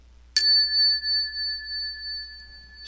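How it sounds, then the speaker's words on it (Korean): A single bell struck once in a Buddhist temple morning broadcast, a clear bright ring that sustains with a long, slowly fading resonance for several seconds, heard alone without voices. "영상의 종소리와 함께"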